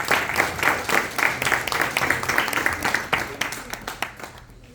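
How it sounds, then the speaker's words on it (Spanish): Audience applause in a university hall in Cuenca, a warm welcome for a guest speaker: dense steady clapping from many hands, close and loud, fading toward the end, with no talk over it. "damos la bienvenida con un caluroso aplauso y cariño a Lilia Mariana Copre Chango"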